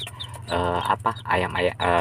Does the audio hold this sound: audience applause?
no